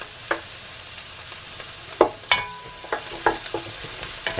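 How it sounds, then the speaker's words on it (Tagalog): Beef tongue cubes sauté in a pan with string onion, giving a steady sizzle broken by several sharp clinks and scrapes of a utensil stirring, close and without any voices. "igigisa ko na tong cubes"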